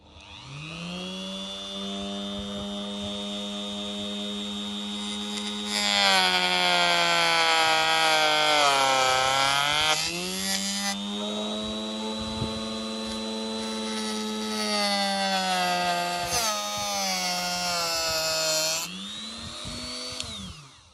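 A wood lathe spins a piece of wood while a freshly sharpened chisel cuts it, a loud steady whine with strong harmonics that swells into harsher, rougher cutting bursts and eases back between passes.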